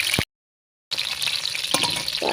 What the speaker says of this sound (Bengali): এবার ফুলকপি দিয়ে দিচ্ছি। তেল গরম হয়ে গেছে। এবার আমি সুন্দর করে ভেজে নেব।